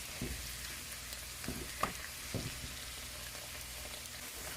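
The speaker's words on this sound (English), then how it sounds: "after you saute this full of ginger and garlic" Ginger and garlic sauteing in a pan for jerk shrimp pasta, a soft steady sizzle with a few sharp stirring clinks and scrapes scattered through, fairly quiet and close with no talk.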